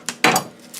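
A knife slices through a shallot on a cutting board while potato hash is being prepared: two sharp, close contact clicks about a tenth of a second apart, with a faint tap near the end and no talking.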